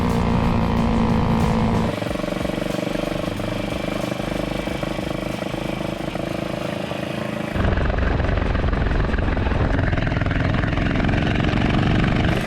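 A 350 wide case Scrambler motorcycle runs at idle outdoors in the Dutch countryside, its engine a steady close throbbing drone that changes character partway through and then continues louder and rougher, with no speech.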